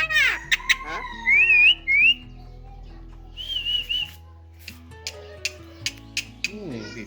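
A myna bird (shalik) whistles mimicked musical phrases: clear, bright rising and falling whistles in short bursts with pauses, close and fairly loud, and a few faint clicks and a voice near the end.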